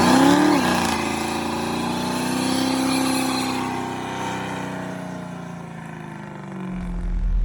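A 1966 Chevrolet C10 pickup with an LS swap and a Carven exhaust revs hard, its engine note sweeping up and then settling into a sustained, throaty drone. It is loud and close, with a deep rumble swelling near the end.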